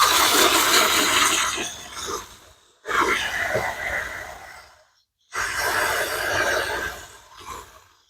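A spray nozzle waters potted fall mums in three long, loud, hissing bursts, each separated by a short silence.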